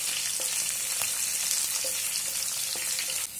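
Sweet corn frying in a pan with curry leaves gives a steady, close sizzle, with faint stirring clicks scattered through it and no talking.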